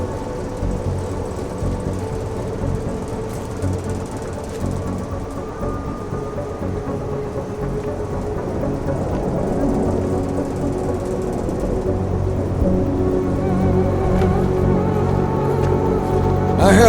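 Steady dense rain with low rumbling thunder in the game Deus Ex: Mankind Divided, a continuous broadband wash that builds slightly louder toward the end, with no talking.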